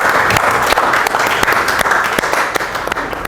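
Applause from a classroom audience welcoming a presenter named Naufal before his talk at a teacher performance exam, steady dense clapping filling the whole moment, close and loud with no voices on top.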